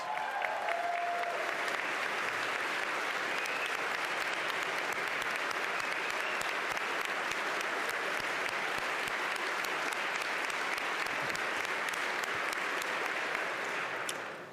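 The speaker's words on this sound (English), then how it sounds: "there were some members of the Senate who rose to clap for Ms. Holmes Davis" Sustained applause from legislators in a chamber during a governor's budget address, steady and dense throughout, with no talk over it.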